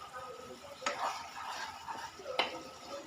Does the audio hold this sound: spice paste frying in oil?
yes